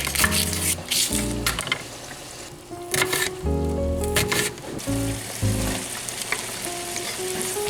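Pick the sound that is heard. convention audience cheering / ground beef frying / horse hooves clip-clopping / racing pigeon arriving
ground beef frying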